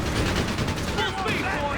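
Battle gunfire from the video game Company of Heroes 3, continuous rattling rifle and machine-gun shots with distant booms layered together, loud and unbroken throughout the short stretch.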